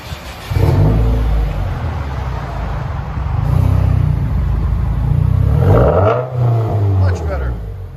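A 2020 Subaru WRX turbo with straight-pipe dual exhaust revs hard in repeated bursts, its raspy, booming exhaust rising and falling close to the microphone, with a voice heard over parts of it.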